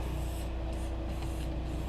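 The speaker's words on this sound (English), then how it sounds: "It doesn't even hurt to spray your locking mechanisms" A steady hiss of Krown rust-proofing oil spraying from a nozzle inside a car door, close and continuous, with faint rubbing underneath and no voices.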